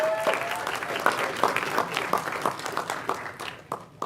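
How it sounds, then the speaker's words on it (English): An audience at a Roadtrip Nation and NYSERDA Empowered State event gives a round of applause, a dense patter of clapping that thins toward the end, with some faint voices mixed in. "let's give a round of applause for all of those examples."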